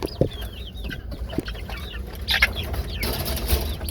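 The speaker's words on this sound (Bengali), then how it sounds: "এই যে আমার শখের মুরগিটির সাদাটা।" A backyard hen clucks in short, soft bursts, with some wing flapping and a few scattered chirps around it, recorded up close with no talking.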